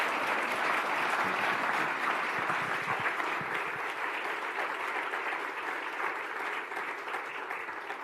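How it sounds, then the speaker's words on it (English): An audience applauding young economists on stage, long, steady clapping from a large crowd heard at a distance and quite soft, fading slightly toward the end, with no voices over it. "can we give a big round of applause to the other 9 who have done a superb job?"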